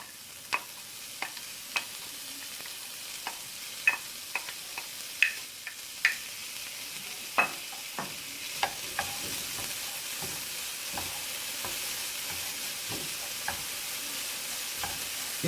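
Onions and lardons frying in a pan after white wine has cooked off, a steady soft sizzle with repeated sharp clicks of stirring utensil against the pan, fairly close and without speech.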